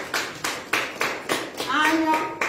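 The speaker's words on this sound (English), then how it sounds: "Let's clap for Jesus." A church congregation claps together at a crossover service, a few loud rhythmic bursts of hand claps with voices mixed in underneath.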